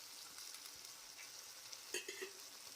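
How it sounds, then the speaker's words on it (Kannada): Tomatoes fry quietly in oil with salt and cumin for a mint tomato chutney, giving a faint, even sizzle with a couple of brief crackling bursts near the end. "ಟೊಮೊಟೊ ಸ್ವಲ್ಪ ಫ್ರೈ ಆಗಲಿ."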